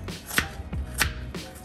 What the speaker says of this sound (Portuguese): Agora a gente vai picar as cenouras em rodelas.